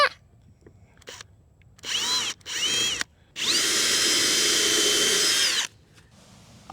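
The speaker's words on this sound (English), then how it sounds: "First thing I'm going to do is drill a pilot hole in the center of my beam there." A power drill bores a pilot hole into the center of a wooden beam for a lag bolt while a solar shed is anchored. It gives several short whirring bursts and then one longer sustained run, close and clear.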